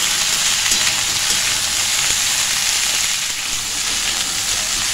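Potatoes and cluster beans frying in a covered pan give off a steady, dense sizzle that holds evenly for the whole stretch, close and fairly loud, with no voices over it.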